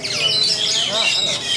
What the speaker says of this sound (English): There's so many birds in here.